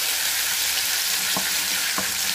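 Onion and garlic sautéing in a pan, giving a loud, steady, broadband hiss of frying oil and two brief knocks from a stirring utensil.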